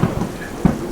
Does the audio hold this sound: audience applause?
no